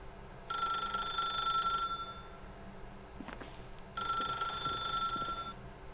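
A telephone rings in two long bursts separated by a pause, bright and electronic, inside The Stanley Parable video game, set against a quiet ambient hum.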